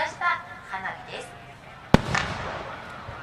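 A sharp 4-inch firework shell bang cracks out once at the 2019 Isehara art fireworks festival, followed by crackling and rumbling bursts, with a few faint voices and distant pops beforehand.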